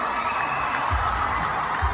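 Sustained audience applause and cheering fill a Miss Negros Oriental 2023 beauty pageant hall, a dense, continuous wash of clapping and crowd noise.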